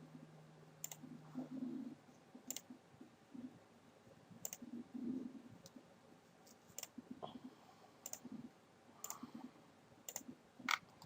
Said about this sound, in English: Just kind of clicking at random.